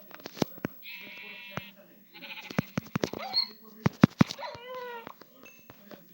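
Sheep bleating in several short, wavering calls, with quick clicks and thumps in between and a human voice heard among them.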